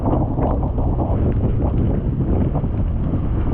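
Strong wind roars continuously in a storm, a dense, loud rumble buffeting the microphone without letup, no voices.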